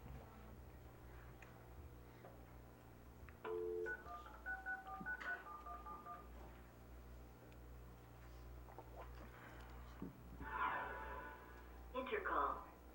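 A conference phone-in line is dialed at a city council meeting: a quick run of touch-tone beeps sounds mid-clip, and a later burst of tones follows, over low room noise and faint voices.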